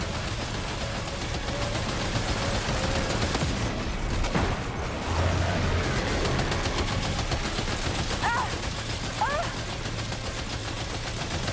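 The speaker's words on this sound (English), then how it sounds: "Opening fire now." Gunfire in the video game Death Stranding 2 rattles in sustained, fairly loud bursts, mixed with mechanical noise and a few brief electronic chirps near the end.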